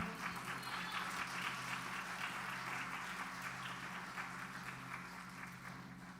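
A church congregation applauds steadily during a Portuguese-language worship service, a dense, sustained clapping that fades slightly toward the end.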